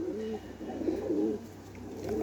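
A stray pigeon coos in low, rolling repeated phrases, close and steady over a faint constant background hum, with no voices.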